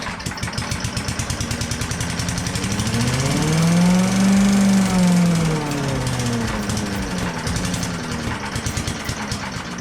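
Tecumseh small engine running rough with a likely carburetor problem, a loud rattling chug that swells up in pitch and volume mid-way then settles back to a steady choppy idle.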